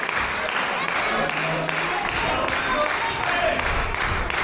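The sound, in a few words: wrestling crowd cheering to inspire Talon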